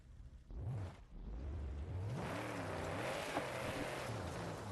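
A racing car engine in the video game Forza Horizon 5 gives a steady drone with a rising, warbling revving pitch that climbs and dips continuously, loud and close, with no voices.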